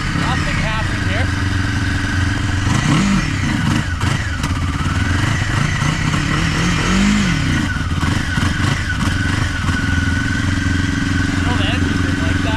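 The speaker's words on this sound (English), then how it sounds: "Oh, the engine didn't like that." A vehicle engine strains through winter backcountry on a trapline, running loud and continuous close by with uneven revs that surge and sag throughout.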